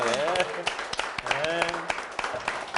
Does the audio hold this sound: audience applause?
yes